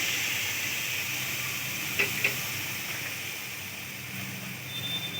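Ragda added to lightly browned fried onions in a pan gives a loud, steady sizzle and hiss throughout, with two brief clinks near the middle.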